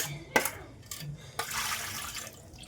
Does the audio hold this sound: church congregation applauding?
no